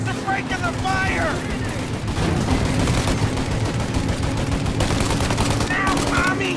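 Sustained gunfire rattles through a shootout in the video game Mafia, with dense, continuous bursts and shots layered loudly over the whole stretch, the odd voice cutting in among the volleys.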